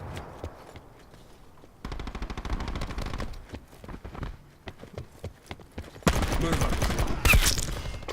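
Rapid gunfire bursts from the Black Ops 4 video game, a pistol loadout, come in quick rattling volleys that grow louder and denser toward the end, mixed with game effects and no talk.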